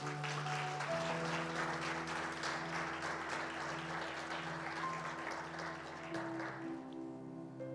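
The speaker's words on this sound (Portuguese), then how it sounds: "Dê um aplauso bem forte ao Senhor." A church congregation applauds loudly and continuously, with a steady sustained keyboard accompaniment humming underneath the clapping.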